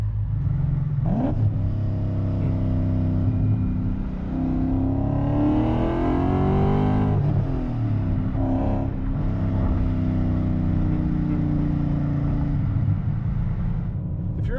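A 2003 BMW E39 M5 with the S62 V8 and individual throttle bodies accelerates hard, the engine note rising and then settling into a sustained loud drone, heard alone without talk.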